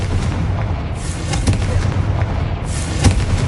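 Repeated booming blasts of the Confringo fire spell in Hogwarts Legacy, several heavy thuds with crackling bursts over a dense rumbling game backdrop, loud and close.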